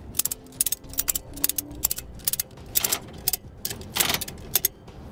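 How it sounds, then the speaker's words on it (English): A Titan chain E-track ratchet strap being cranked tight, giving close, sharp mechanical clicks in uneven bursts of repeated ratchet strokes, with no talking. "we can just ratchet it down"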